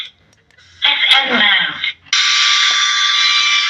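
FM radio static from a 4440 IC amplifier board played through two speakers: a burst of crackling tuning noise, a brief dip, then a loud, steady, unbroken hiss.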